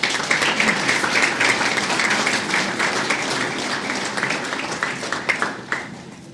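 Audience applause fills a hall-of-fame induction ceremony, steady dense clapping sustained throughout and close, tapering slightly with a few sharper claps near the end.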